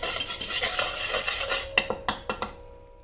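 Vanilla essence is stirred into a mixture in a bowl: a close scraping swirl, then a few distinct clinks and taps of the utensil against the bowl near the end, with no talking.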